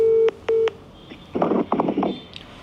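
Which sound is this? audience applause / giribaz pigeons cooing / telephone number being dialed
telephone number being dialed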